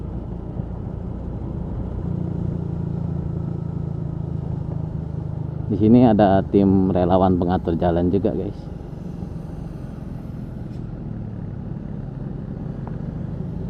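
A Yamaha Mio GT 113cc scooter rides along the mountain road from Ciwidey to Naringgul, its engine a steady low rumble mixed with wind noise throughout, while someone talks for a couple of seconds midway.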